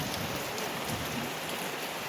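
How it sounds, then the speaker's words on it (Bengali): Steady rain falls outside a rural home beside an unpaved dirt road, a continuous even hiss of drops on surfaces with no gaps and no voices. "এখন পানি হচ্ছে, মানে বৃষ্টি হচ্ছে"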